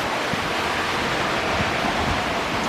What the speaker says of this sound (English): so there's water hitting the window.